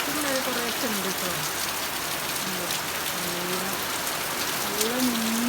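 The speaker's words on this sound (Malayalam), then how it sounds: "അപ്പോൾ ഇതൊക്കെ നല്ല മഴയാണ് കേട്ടോ" Heavy monsoon rain pours steadily outdoors in Kerala, a dense continuous hiss of drops on surfaces while a person talks over it.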